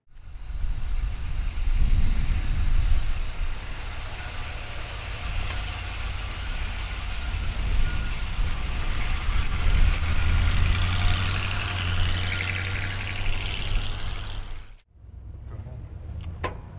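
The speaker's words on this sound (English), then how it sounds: "All right, let's take a Chevy pickup truck for a ride." A 1984 Chevrolet K20 pickup truck engine idles with a steady low rumble for most of the stretch, then cuts off abruptly before a quieter hum resumes.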